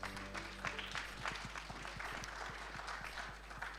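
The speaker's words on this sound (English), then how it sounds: "Can we give them a big round of applause?" An audience at a national ICT summit applauds the panelists, steady scattered clapping heard at a distance over a low electrical hum, faint but continuous.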